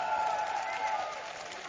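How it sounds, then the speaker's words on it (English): A brief burst of audience noise at a live gaming event: a dense wash of clapping and cheering, with a sustained whistle-like tone riding above it, fairly distant and moderate in level. "Make some noise if you support Bly."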